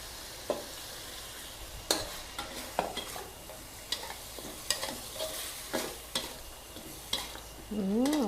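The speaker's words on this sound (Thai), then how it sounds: "เอาให้มันคลุกคลิกอย่าผัดให้แห้ง" Pork ribs stir-fried with red curry paste, galangal, chilies and torn kaffir lime leaves, a constant close sizzle punctuated by regular scraping stirs of a spatula in the pan.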